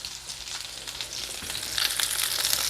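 Salmon fries in a hot pan with a steady, dense sizzle and crackling splatter that builds slightly louder toward the end, close and continuous with no voices.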